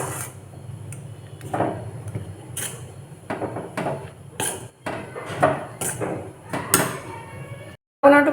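Homemade liquid dish wash made with lemon juice and soap pieces is stirred in a metal pot, giving repeated scraping clanks and knocks against the pot at an uneven pace, with a quiet voice in the background.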